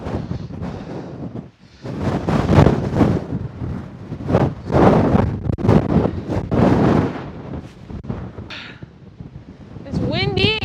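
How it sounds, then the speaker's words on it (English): Strong wind on an exposed mountain trail on Snowdon, roaring and buffeting loudly against the microphone in continuous gusts for most of the clip, with brief lulls and a short squeal near the end. "Super windy out here,"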